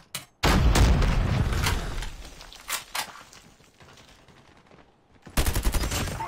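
Bursts of rapid gunfire from the Hades gun in Call of Duty Mobile, loud and close, starting after a brief silence, tapering to scattered shots, then a fresh loud burst near the end.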